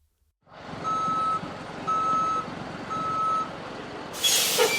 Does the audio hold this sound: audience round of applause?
no